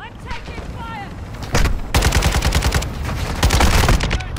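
Rapid gunfire in a first-person shooter video game, loud and close, breaking into dense bursts of shots after a quieter opening, with a voice talking underneath.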